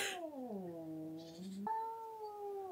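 A cat wails at a neighbour's cat, close and loud, with a long drawn-out yowl that sinks in pitch, then a second rising, wavering howl.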